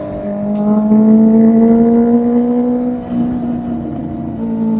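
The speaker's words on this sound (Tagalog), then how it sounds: "Iba talaga yung, yung makina ng, inline 4, no?" Inline-four big bike motorcycle engine revving on a year-end group ride in Lipa, Batangas, a steady loud drone that rises slightly in pitch, sustained close by for the whole stretch with no talk over it.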